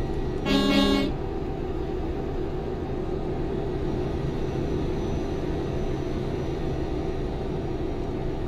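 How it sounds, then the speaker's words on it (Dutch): A truck horn sounds in Euro Truck Simulator, one short loud toot near the start, followed by the steady drone of the engine and road noise. "Kan ik ook hoor, ik kan ook toeteren."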